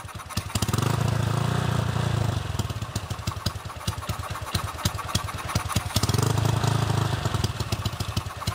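Honda PCX scooter engine fitted with nitrous, revving on its own with no hand on the throttle, loud and close, surging into two sustained high-rev bursts with rough, pulsing idle between them.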